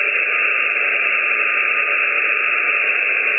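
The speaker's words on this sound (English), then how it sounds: "now here's the noise antenna by itself." Receiver noise picked up by an RA0SMS Mini-Whip noise antenna on its own: an unbroken, even hiss of static, loud and steady throughout, with no voices or signals.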